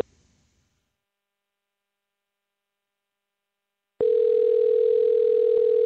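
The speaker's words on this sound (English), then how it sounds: "I hear the phone ringing." A steady telephone tone on an outgoing call to a live show: a brief click, silence, then a continuous loud electronic tone holds unbroken to the end.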